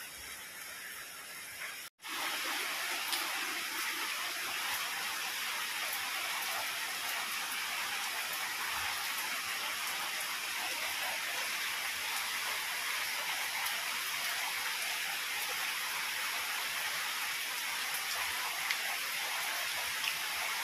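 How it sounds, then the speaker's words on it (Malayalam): Light drizzle falls outside a house veranda as a steady, even hiss that holds unbroken for about twenty seconds, with no voices. "ചെറിയൊരു ചാറ്റൽ മഴ തുടങ്ങിയിട്ടുണ്ട്."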